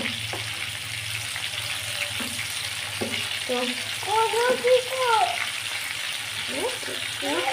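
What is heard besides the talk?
chicken chaap frying in a pan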